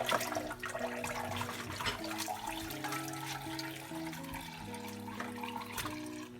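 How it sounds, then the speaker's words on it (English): Water running as a plate is rinsed over a collecting bucket, a steady splashing and trickling stream, fairly quiet and continuous throughout. "And then just to rinse off the soap suds, I do it over my bucket."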